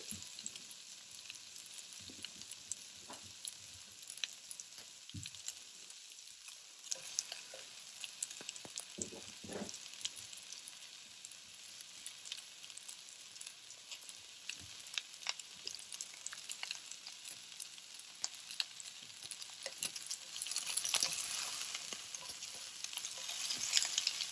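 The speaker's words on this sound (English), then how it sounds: "we're just going to go ahead and get the onions caramelized a little bit" Sliced red onion caramelizing in a hot frying pan, a steady broadband sizzle with occasional stirring scrapes, fairly close and even throughout with no talking.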